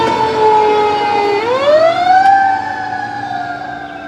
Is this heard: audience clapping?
no